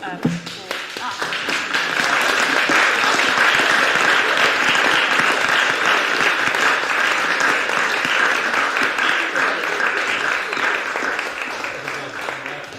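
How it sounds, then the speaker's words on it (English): Sustained applause in a full council meeting welcoming a newly appointed sheriff, a dense wash of many hands clapping that swells within two seconds and holds steady, with voices mixed in beneath. "Mike, we said we'd clap you when you came in, because you have now been appointed sheriff"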